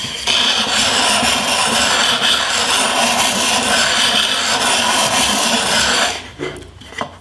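Hand-powered disc sander rounding over the corner of a wooden piece: a loud, close, steady rasping grind for about six seconds, then it stops and only faint handling noise remains.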